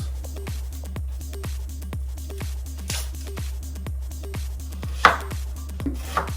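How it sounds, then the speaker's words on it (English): A knife chops an onion on a cutting board in a home kitchen, steady evenly spaced thuds at a brisk rhythm, close and clear, with a couple of sharper knocks near the end and no talking. "So now we're going to cut the onion for the lentils."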